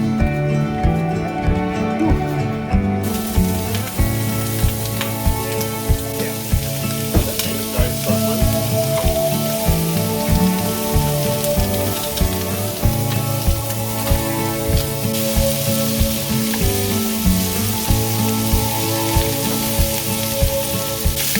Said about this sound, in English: I'm going to rub some garlic butter and put them on the barbie.